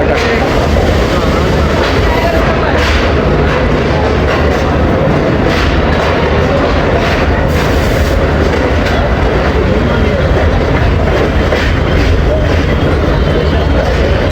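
The Hazara Express passenger train rolls out of the station, making a loud, continuous rumble with rattling coaches and faint clickety-clack of wheels on rail joints heard up close.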